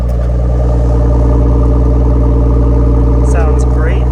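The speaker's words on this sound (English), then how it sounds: "You hear the muffler." A Nissan Skyline R34 sedan sits idling on a cold morning, its exhaust muffler putting out a loud, steady, close-up drone with a constant low rumble and no revving.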